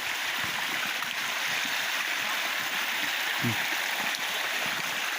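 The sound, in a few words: river water flowing over a flooded road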